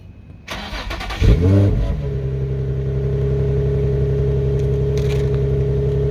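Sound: Infiniti car engine being started and running

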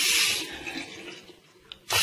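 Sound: water running from a new sink mixer tap

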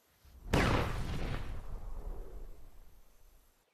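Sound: explosion

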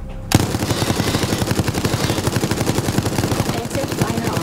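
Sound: machine gun firing in Resident Evil Resistance video game

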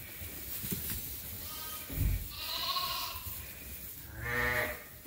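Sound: sheep bleating on a sheep farm

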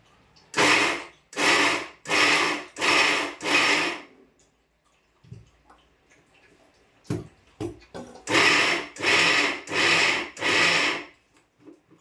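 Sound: roasted peanuts being coarsely ground in a mixer

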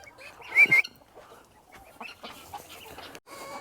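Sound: chickens clucking

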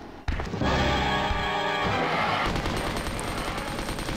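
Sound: machine gun firing in the video game Resident Evil 2

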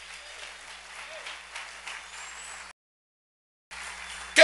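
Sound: applause

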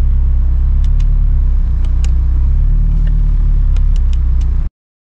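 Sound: Honda Civic Type R driving on the road

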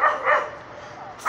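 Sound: dogs barking in a park

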